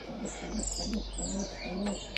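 Soft, low pigeon cooing repeated in a steady rhythm of four or five calls, with faint chirps and background hum.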